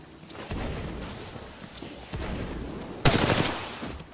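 Loud, close gunfire from a rifle in a Titanfall 2 training session, several bursts of rapid shots with short pauses between them, ending in a sharper, louder volley.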